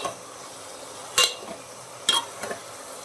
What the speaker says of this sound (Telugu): 5 లేదా 10 నిమిషాలు మగ్గిన తర్వాత ఒకసారి కలుపుకొని